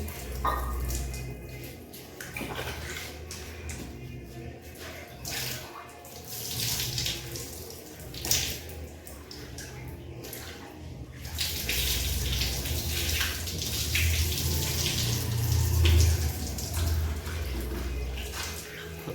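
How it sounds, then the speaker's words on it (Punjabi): Tap water runs steadily into a kitchen sink while utensils are rinsed, a continuous splashing flow with shifting clatters, close and fairly loud, with no talk. "ਇਸ ਨੂੰ ਅੱਛੀ ਤਰ੍ਹਾਂ ਤਰ੍ਹਾਂ ਪਾਣੀ ਨਾਲ ਧੋ ਲਿਆ ਪਾਣੀ ਨੂੰ ਚਲਾ ਰਿਹਾ"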